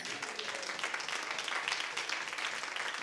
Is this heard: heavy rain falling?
no